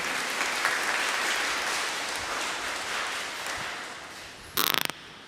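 Sustained applause from a crowd at a church harvest festival marking Migrants Day, a steady broadband wash of clapping that fills the hall, with a short sharper burst of nearby clapping near the end.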